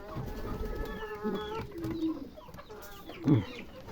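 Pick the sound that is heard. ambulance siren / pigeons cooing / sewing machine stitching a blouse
pigeons cooing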